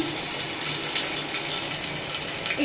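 Tap water runs steadily over dry-roasted mung dal being washed in a sink, a continuous close splashing hiss with no voices throughout.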